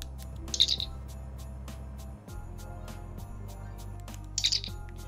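A Star Trek The Next Generation combadge replica from Fametek gives two short electronic chirps when pressed, one near the start and one near the end, with a quiet pause between.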